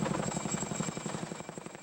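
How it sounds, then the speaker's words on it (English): U.S. Army helicopter hovering over a ravine to airlift a heavy encased dinosaur skeleton, a loud steady rotor thump with rapid rhythmic chopping and engine whine throughout. "A U.S. Army helicopter was sent in to airlift the remains out of the ravine."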